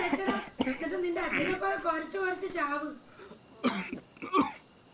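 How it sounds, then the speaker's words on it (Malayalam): A man in a Malayalam comedy film scene coughs heavily. Talk and throat sounds come first, followed by two harsh, separate coughs near the end. "എന്താളിയാ ഭയങ്കര ചുമയാണല്ലോ"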